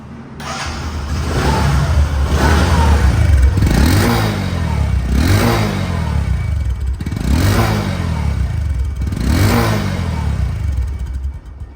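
A Discover 125cc motorcycle engine idles close by and is revved repeatedly, about five rising vroom surges over a steady throbbing idle, with no talking.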